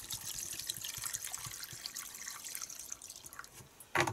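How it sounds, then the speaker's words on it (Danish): Carburetor cleaner spirit is sprayed through a lawn mower carburetor during servicing, a steady hissing, trickling rush close by that thins out, ending with a short sharp burst. "så skyller vi den lige igennem med noget karburatorsprit"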